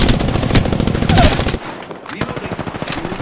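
Enemy gunfire in Apex Legends, a dense burst of rapid automatic shots rattling loudly for over a second, followed by sparser, quieter shots.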